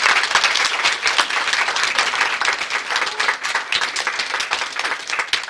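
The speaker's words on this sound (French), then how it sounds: "je vous propose de les applaudir pour leur accueil" Dense, loud applause rises from a theatre audience before a one-act play, sustained and close throughout with no pause.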